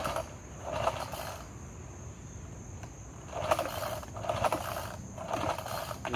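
Several quick pulls on the starter cord of a Craftsman C410 four-stroke 30 cc cultivator give raspy ratcheting whirs, heard as two separate bursts of pulling with short pauses between them, close and fairly loud.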